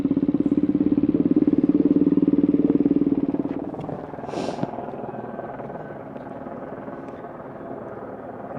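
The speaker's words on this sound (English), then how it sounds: "There's the police helicopter" A police helicopter's rhythmic rotor thumping over Glasgow, loud at first then fading off into the distance, with a brief hiss and clatter midway.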